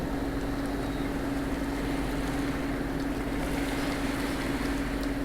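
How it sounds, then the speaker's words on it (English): Boat engines running in the game Stormworks, a steady loud droning hum with a constant low tone and rushing water-like noise throughout, with no speech. "Here, let me try the engines one more time."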